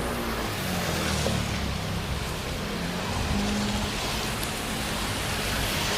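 Heavy rain pours steadily near Ruifang train station in Taiwan, a dense continuous wash of noise with a low hum of passing traffic underneath, constant and close for the whole stretch.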